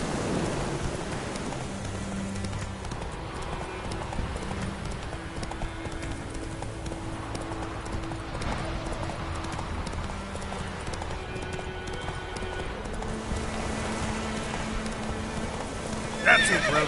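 Roach the horse gallops through pouring rain in The Witcher game, hooves drumming steadily under a constant hiss of rainfall, with occasional whinnies and distant thunder rolling beneath.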